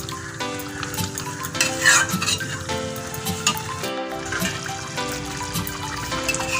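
A pot of meat and potato curry simmering with a steady bubbling, sizzling hiss that runs throughout, while music plays over it.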